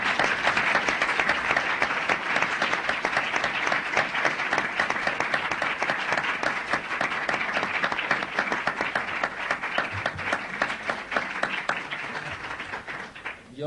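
An audience at a Spanish literary talk with poet Carlos Bousoño breaks into sustained, loud applause, a dense wash of clapping that holds steady for many seconds before tapering at the end.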